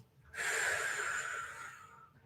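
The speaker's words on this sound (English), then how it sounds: "Ujjayi pranayama, inhaling and exhaling through your nose." Steady ujjayi breath drawn in and pushed out through the nose during a vinyasa yoga flow, a close, loud, airy hiss that swells for nearly two seconds and then fades, heard alone with no talk.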